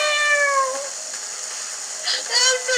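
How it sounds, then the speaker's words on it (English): A cartoonish cat meows from the game Mother 3, with a couple of rising, chirpy calls up front and more near the end, heard over a steady background music bed. "Meow! That's so cute!"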